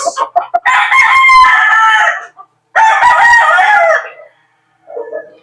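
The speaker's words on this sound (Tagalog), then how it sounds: "Napakagwapong manok mga boss." A pure Allen gamefowl rooster on a breeding farm crows loudly and close by, two long drawn-out calls after a few short clucks, followed by a softer trailing note.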